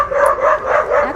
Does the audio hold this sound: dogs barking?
yes